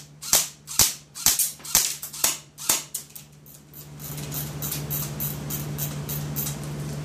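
A G&G Combat Machine M4 airsoft gun fires about seven sharp, close semi-auto shots at a steady pace, followed by a continuous rapid buzz of full-auto fire.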